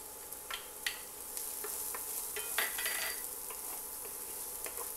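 Finely minced garlic clove is added to a frying pan and stirred, giving a steady sizzle under scattered spoon scrapes and clinks against the pan, with no talking.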